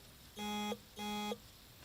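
Two identical electronic beeps from a phone sound at an even spacing, each lasting about a third of a second. They are clear against quiet room tone in a watercolor painting session.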